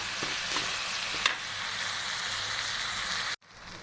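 Masoor dal sizzles steadily in a hot pan, a continuous bright frying hiss with a few stirring scrapes, then cuts off abruptly near the end before quieter sizzling resumes.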